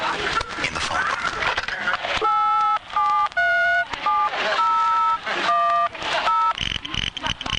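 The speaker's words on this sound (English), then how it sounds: "I'll just dial any number in the phone book." A telephone number is dialed by tone, a rapid run of distinct beeping keypad tones in short bursts with brief gaps, ending in a longer line tone, loud and close.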